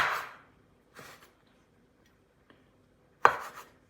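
Ingredients for Sicilian stuffed calamari, including capers, are chopped with a knife on a board in a few sharp, separate thuds with pauses between them, close and clear.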